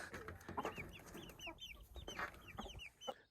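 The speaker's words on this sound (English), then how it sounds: "3 of our young Easter eggers that we're getting ready to introduce into the flock" Young Easter Egger chickens cluck and chirp softly near at hand, a busy overlapping stream of short calls and murmurs among the flock.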